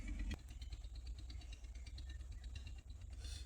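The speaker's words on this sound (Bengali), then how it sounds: "ভিউয়ার্স দেখতে পাচ্ছেন আরেকটি ট্রলার যাচ্ছে ব্রহ্মপুত্র নদীতে" A trawler boat engine passes on the Brahmaputra river, giving a steady low chugging drone with faint clatter that holds at a moderate distance throughout, with no voices.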